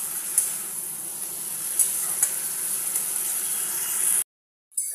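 Chopped figs (dumur) being sautéed in a pan for a vegetarian dish give off a steady, close sizzling hiss with light stirring scrapes, cutting out briefly near the end before resuming.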